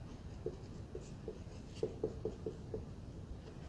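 Pen or chalk strokes during a history lesson, about nine short, faint scratching taps in an irregular rhythm, some clustered closely together, in a quiet room.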